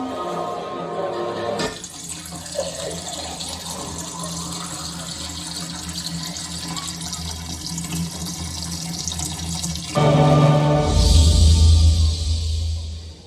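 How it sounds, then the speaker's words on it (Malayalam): Water pouring steadily into stone jars, a continuous rushing flow that grows louder and heavier toward the end. "ഭരണികളിലെല്ലാം വെള്ളം നിറച്ചു കഴിഞ്ഞിരിക്കുന്നു"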